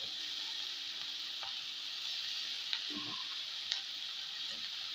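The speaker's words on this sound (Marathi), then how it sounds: "पुन्हा ही भाजी हलवून घ्यायची" Sour leafy vegetable curry sizzles steadily in a pan as it is stirred, a constant bright hiss with a couple of soft scrapes and light taps of the spoon, quiet and near.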